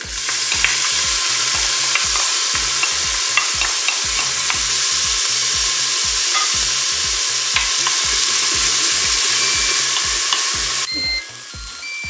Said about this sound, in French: je vais quand même commencer à mettre mes oignons parce que l'huile est chaude